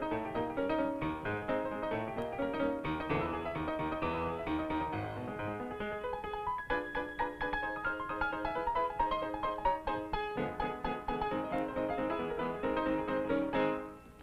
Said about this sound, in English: which is called the Maple Leaf Rag